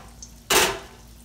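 A sweet potato pie dropped into hot frying oil gives one sudden, short hiss that quickly fades against a quiet background.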